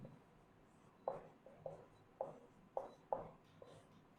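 Chalk taps and scratches across a classroom board in about six short, distinct strokes with brief pauses between them, close and fairly crisp over a quiet background.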